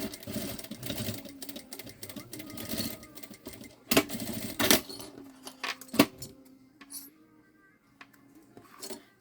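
Sewing machine stitching a seam on a synthetic-fabric backpack, running in short rapid bursts with pauses and small clicks between them, fairly close and moderately loud.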